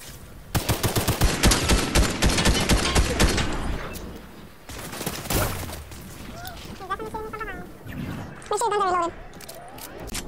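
Video game gunfire: a long burst of rapid automatic shots, then a pause and further bursts and single loud bangs, with voices speaking over part of it.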